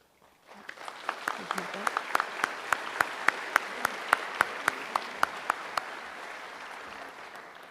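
A crowd claps at a college commencement ceremony, starting suddenly and holding as steady applause, with a few sharp, distinct claps standing out near the microphone throughout.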